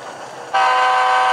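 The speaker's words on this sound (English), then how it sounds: "Honking for the vagrants." A freight locomotive horn on a hauler run blasts in abruptly after a brief quiet moment, a loud, steady sustained toot with rich tonal harmonics, close by and with no talk over it.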